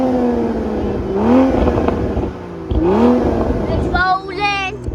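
A 2022 Toyota GR Supra 3.0 Premium drives past nearby, its engine note rising and falling in two loud revving sweeps, with people shouting excitedly over it.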